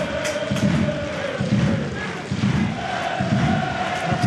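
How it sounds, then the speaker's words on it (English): A large football crowd at a Dundalk FC match against FC BATE Borisov roars and chants in rhythmic surges, a dense, loud stadium wash that swells in repeated waves. "the crowd has been fantastic tonight"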